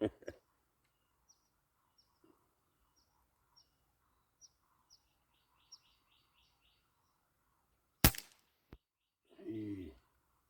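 A single sharp snap from a Legacy 1000 pellet gun being fired stands out against a quiet outdoor background of scattered bird chirps, followed by a faint second click and a brief voice.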